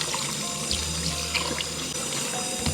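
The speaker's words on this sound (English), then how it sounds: "So I just give it a quick rinse in cold water." Cooked pasta rinsed under a running cold kitchen tap in a colander, a steady close hiss of flowing water splashing over the noodles for the whole stretch, with no talking.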